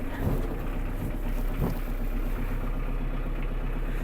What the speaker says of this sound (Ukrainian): Трошечки зменшимо оберти.